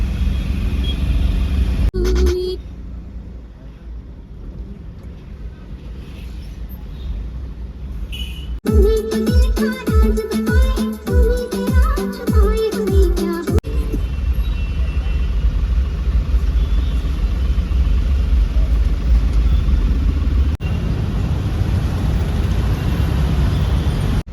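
Road traffic on a street toward Kharadi, with vehicles approaching from both directions: a steady engine rumble and the passing drone of cars and a heavier vehicle, loud and close, with no talk.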